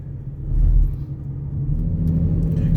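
A car on a winding road through the Appalachian Mountains near Cumberland Gap in autumn gives a steady, loud low rumble from inside the cabin, swelling slightly as it accelerates.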